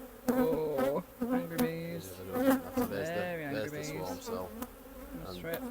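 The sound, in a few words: angry honeybees buzzing around an opened beehive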